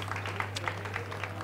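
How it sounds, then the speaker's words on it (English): An audience at a human resources management summit applauds, a short burst of quiet, scattered clapping over a steady low electrical hum. "One more round of applause"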